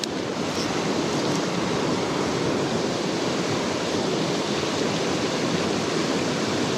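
A river running high and fast with spring runoff, a steady, loud broadband rush of water that holds constant throughout with no talk over it.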